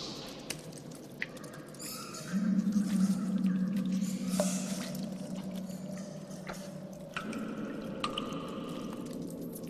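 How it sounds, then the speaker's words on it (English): A tabletop role-playing ambience plays for a Ravenloft dungeon scene. Scattered water drips and small patters sound over a low murmuring bed, with light scurrying noises in the quiet space. "the water, some scurrying of rats"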